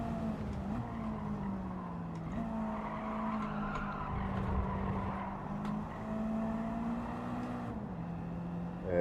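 A race car laps Daytona in Gran Turismo 7: a loud, steady engine drone with gear-shift dips, and tires faintly squealing through the corners.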